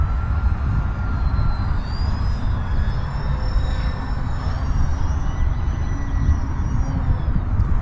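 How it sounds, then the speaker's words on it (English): A ROCHOBBY MXS V2 3D park flyer RC airplane on a 3-cell battery flies overhead, giving a steady, fairly loud electric motor and propeller whine with shifting high tones as it maneuvers, over constant outdoor wind-like noise. "Really a beautiful plane."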